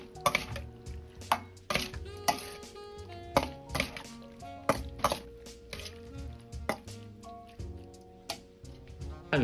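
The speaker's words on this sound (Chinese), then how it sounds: "再倒入凉透的素鸡，浇入调好的料汁，勺子多翻拌几下" A spoon tossing and stirring vegetarian chicken with cucumber and dressing in a bowl, giving repeated clinks and knocks in an irregular rhythm, close and fairly clear.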